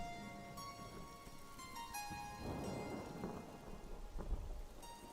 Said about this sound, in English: Rain, rain, go away.